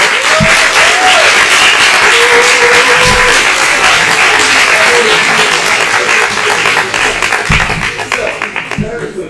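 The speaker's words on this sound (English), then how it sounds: "So, round of applause for all of" An audience claps in sustained applause at a national event in Portugal, a dense, loud wash of clapping that runs steadily for about nine seconds before thinning slightly at the end, with a voice faintly audible over it.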